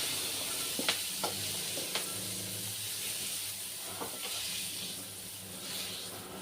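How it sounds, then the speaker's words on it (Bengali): Mixed vegetables for Bengali shukto hiss and sizzle in a hot pan. A few sharp spatula knocks mark them being lifted out. "আমাদের সবজিগুলো ভালো করে ভাজা হয়ে গেছে, এবার সবজিগুলো তুলে নেবো"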